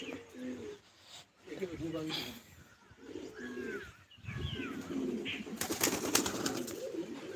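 Pigeons coo in low, rolling calls during a flying session, joined by a few brief chirps and wing flutters, with a voice talking now and then over the birds.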